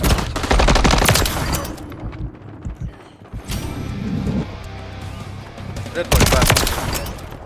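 Rapid tactical rifle fire from Call of Duty MW3, loud bursts opening and closing the stretch with a quieter gap between, someone talking over the shots.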